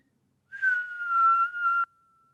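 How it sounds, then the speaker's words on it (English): A person whistles a single sustained, slightly wavering note lasting over a second, clear and close against silence, ending abruptly. "and as he whistles,"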